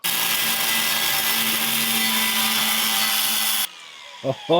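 Threaded bolts being cut off with a power tool during work on a 1937 Lincoln Zephyr front bumper, giving a loud, steady high-pitched grinding whine for several seconds that stops abruptly, followed by a couple of faint clanks.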